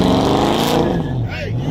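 A truck engine roars and revs down an outlaw drag strip during grudge racing, a loud, close burst of engine noise that shifts pitch as it passes, with a voice speaking over it.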